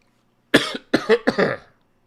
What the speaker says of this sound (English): Got a little bit of cough.